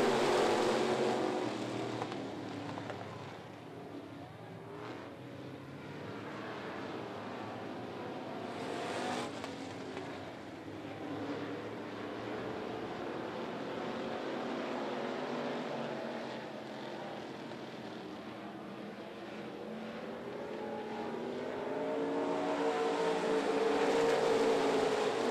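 Race cars lapping Needmore Speedway at the Early Bird 75, their engines roaring steadily at a distance and swelling and fading as they pass.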